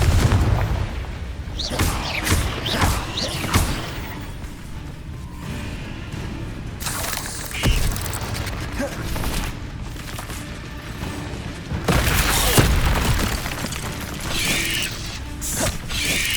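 Spell blasts and impacts from the video game Hogwarts Legacy, with a dense run of booming, crackling hits and whooshes that come one after another at steady loudness, with bursts at the start, in the middle and near the end.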